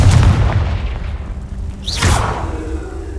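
A Confringo fire spell explodes in the Hogwarts Legacy video game, a loud deep boom at the start that fades out, followed by a second whooshing impact about two seconds later.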